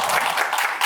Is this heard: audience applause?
yes